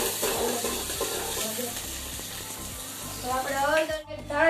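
Onion frying in a pan while Maggi noodles are cooked, giving a steady sizzle with stirring scrapes, and people talk over it.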